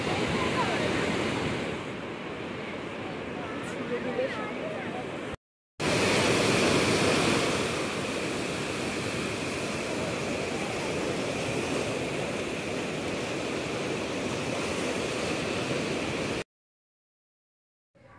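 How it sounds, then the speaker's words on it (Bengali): Sea waves roll onto the beach at Mandarmani in the early morning, a continuous loud roar of surf mixed with wind buffeting, broken by a short silent cut partway through. "সকাল সকাল সমুদ্রের ঢেউয়ের আওয়াজ তো শুনে নিয়েছি"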